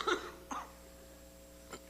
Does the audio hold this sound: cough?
yes